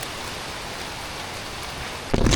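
Steady rain falls on a family tree-planting hike outdoors, a soft continuous hiss of drops with a louder burst of rustle or movement near the end.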